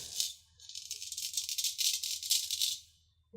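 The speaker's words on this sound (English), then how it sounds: "that hair being cut by the blade is actually kind of a creepy sound" A straight razor blade scrapes through facial hair during a shave, giving a close, crisp, rapid rasping rattle that swells and fades over a few seconds.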